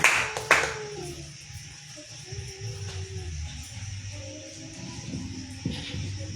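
A church congregation applauds, opening with a couple of sharp, close claps before settling into softer, scattered clapping over a low hum.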